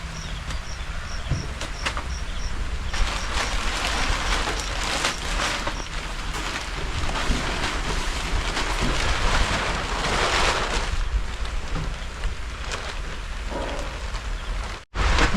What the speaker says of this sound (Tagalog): Yan na yung ulan.